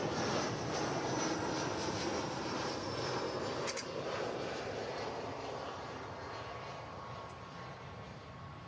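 An American Airlines Airbus A319 airliner roars down the runway departing DFW Airport, a steady loud jet engine rumble at moderate distance that holds throughout and tapers slightly near the end.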